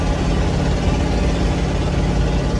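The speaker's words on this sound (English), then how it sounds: "My muffler just fell off the tow truck." Tow truck engine running with the muffler fallen off, a loud, continuous raw exhaust drone with a steady low-pitched rumble and no voices.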